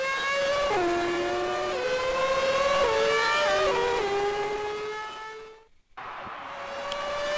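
An IndyCar race car, number 83, in a video game on the St. Petersburg street circuit screams up through several gear shifts, its engine note climbing and dropping, then briefly cuts out before the roar returns.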